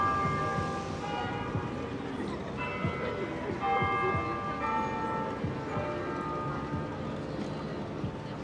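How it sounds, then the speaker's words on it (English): Church bells of St. Patrick's Cathedral in Midtown New York ring with a sustained tone under busy street noise, and people talk over the ringing. "The bells of St. Patrick's Cathedral."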